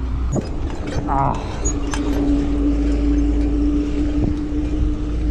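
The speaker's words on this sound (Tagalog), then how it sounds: "Grabe yung lakas ng hangin dito." Steady, loud wind roar buffets the microphone of a GoPro on a bicycle climbing uphill at Kaybiang Tunnel, with a low rumble underneath and faint voices briefly surfacing.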